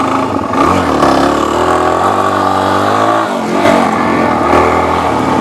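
A Suzuki DRZ400 dual-sport motorcycle engine revving on an off-road trail, a steady loud mid-pitched drone whose pitch rises and falls with throttle changes throughout, close to the rider with no talking.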